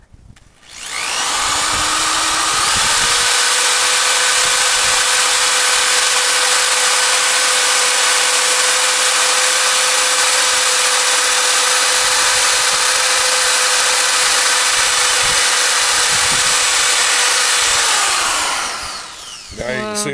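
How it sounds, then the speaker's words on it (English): A paddle sander on a drill spins up and grinds steadily against a wire rabbit cage to deburr it, a loud sustained whine lasting nearly twenty seconds before winding down. "And what we're going to do it with is what's called a paddle sander."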